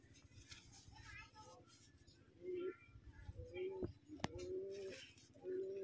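A Madrasi pigeon coos in several short, low, throaty phrases, close by, partly under someone talking and some background noise.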